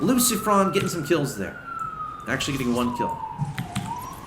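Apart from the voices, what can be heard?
siren in the background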